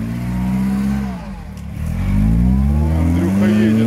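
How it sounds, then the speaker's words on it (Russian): A UAZ Patriot grinds up a steep, difficult off-road climb on a hard trail, its engine droning loud and close, dipping briefly then swelling into a strained, rising rev. "Так, едет Патриот в эту жесть."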